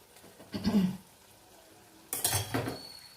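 Thick jackfruit seed paste dal stirred in a pan, with two short bursts of scraping and clinking spoon-on-metal strokes separated by a quiet pause and no speech.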